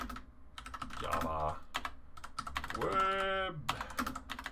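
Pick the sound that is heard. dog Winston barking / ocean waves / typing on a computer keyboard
typing on a computer keyboard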